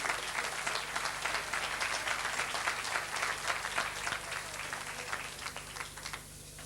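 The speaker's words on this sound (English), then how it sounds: "Please give them a round of applause" An audience at a night honouring Mayo's boxing champions breaks into steady, moderately loud applause for the boxers, a dense patter of many hands that holds for several seconds and then begins to thin.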